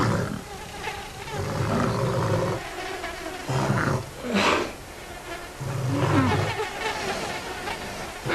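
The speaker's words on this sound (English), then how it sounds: "Insects are becoming a problem again." Loud, droning insect buzzing from the Zoo Tycoon 2 Walking with Beasts game fills the scene, swelling and fading in waves with a low rumbling undertone, no voices.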